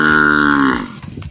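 Cattle at a farm lowing loudly in one long, drawn-out moo that fades after about a second into quieter farmyard sounds.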